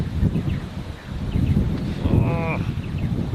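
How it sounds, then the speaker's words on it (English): Steady wind rushing and buffeting the microphone somewhere before the Flinders Ranges, with a faint high chirp near the end and no talking. "So windy here. Really, really windy."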